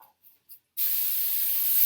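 A few faint taps, then a steady, hissing aerosol spray of hair spray that runs continuously to the end.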